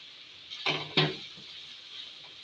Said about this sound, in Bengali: এখন দিয়ে দেবো বিনস কুচি